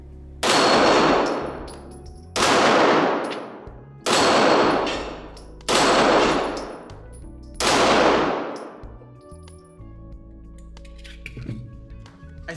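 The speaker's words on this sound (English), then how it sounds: "I think it's just me shooting like crap." Five loud, evenly spaced pistol shots from a Rock Island 1911 in 9mm, each a sharp crack with a long ringing tail, followed by quiet handling noises.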